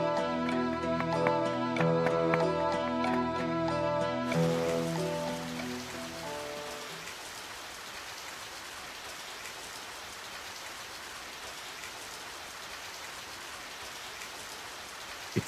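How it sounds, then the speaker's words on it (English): Rain falling in the video game Radiant Historia, a steady, even hiss that takes over as the musical score fades away, then continues alone at moderate loudness. "It started to rain."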